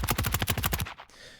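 Layered close gunshot sound effect with its sub layer turned off, a fast automatic burst of about ten tight, staccato shots that stops suddenly, leaving a brief, quieter decaying tail.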